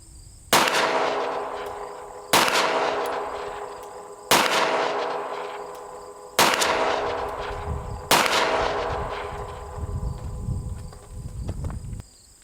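Five sharp pistol shots from a Glock 19 firing Fiocchi jacketed rounds, spaced about two seconds apart, each a loud crack that rings out and decays slowly, heard alone.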